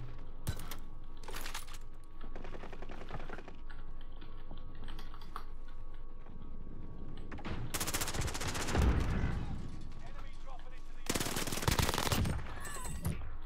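Video game gunfire crackles in repeated bursts, some rapid and machine-gun-like, close and loud, mixed with keyboard clatter and brief voice sounds in a multiplayer shooter match.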